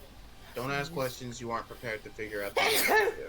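A sneeze bursts out near the end, loud and close, right after a stretch of continuous speech in an animated summer-camp game scene.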